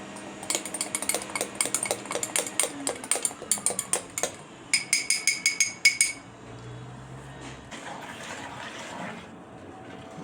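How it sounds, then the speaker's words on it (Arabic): A spoon stirs freshly squeezed orange juice in a glass to dissolve sugar, ringing in a quick run of rhythmic clinks against the glass, pausing, then another fast burst before fading to quieter scraping. "نحاول برضو نقلب عشان لو لسه في شويه سكر ما دابوش يدوبوا."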